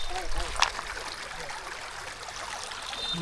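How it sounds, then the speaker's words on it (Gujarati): Clear stream water flows steadily near a hill temple, a continuous close rush and trickle filling the short stretch with no pauses. "અહીંયા જો કેવું મસ્ત પાણી જાય છે ચોખ્ખું છે હો"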